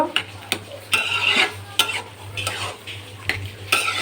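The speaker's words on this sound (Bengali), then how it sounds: "এটা সুন্দর করে এবার নেড়ে নেব, নিয়ে মাখা মাখা করে নেব" Bottle gourd and potato mixed with wheat flour are stirred in a sizzling pan, with repeated scraping spoon strokes in an uneven rhythm over a low, constant frying hiss, close by.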